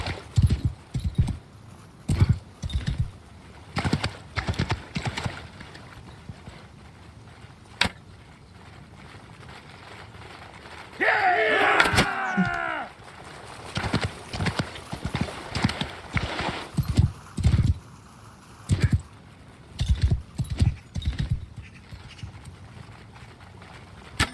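Horse hooves clip-clopping at a gallop in the video game Mount & Blade II Bannerlord, a loud rhythmic stream of hoofbeats interrupted midway by a brief neigh, with no talk.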